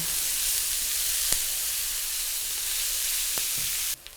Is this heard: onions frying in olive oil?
yes